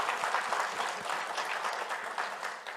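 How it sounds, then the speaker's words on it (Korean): A church congregation applauds during a Korean Sunday worship service, a steady, dense patter of many hands clapping together, fairly loud and continuous throughout with no talking. "우리 박수로 한번 격려하도록 하겠습니다."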